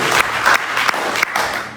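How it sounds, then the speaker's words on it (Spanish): A church congregation applauds during a sermon, loud close clapping in uneven surges with brief dips, steady throughout. "Denle ese aplauso al Rey de Gloria."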